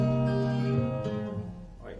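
Acoustic guitar playing the first bar of a song at full speed, sustained chords and picked notes ringing out close and clear on their own, fading toward the end.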